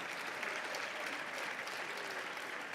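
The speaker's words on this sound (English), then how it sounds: "Let's give them a round of applause." Steady, dense audience applause at an International Conservation Caucus Foundation evening event, moderately loud and continuous throughout without speech.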